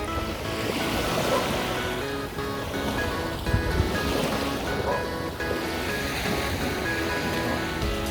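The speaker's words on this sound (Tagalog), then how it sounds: "Sa tabing dagat po ngayon dito." Ocean surf washes continuously onto the shore at Calaca, Batangas, a steady rushing roar with gusts of wind buffeting the microphone.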